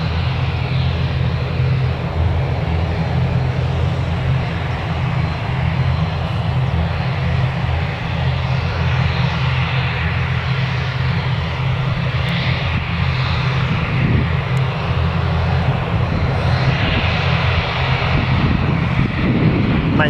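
An airliner at Newcastle Airport fills the air with a loud, sustained engine drone and low rumble that stays steady for about twenty seconds, carrying no speech.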